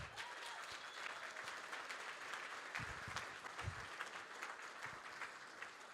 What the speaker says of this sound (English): I just want a huge round of applause to Taylor McCarthy.